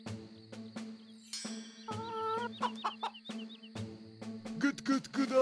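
A voice imitates a clucking chicken in a Turkish Keloğlan folk-tale cartoon, with a run of rhythmic, pitched clucks and squawks over light background music beats.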